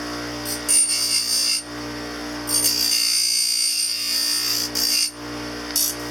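A grinding stone on a high-speed rotary handpiece trims the posterior border of an acrylic thumb partial denture, giving a steady whine broken by short, repeated bursts of abrasive grinding as the stone touches and lifts from the acrylic.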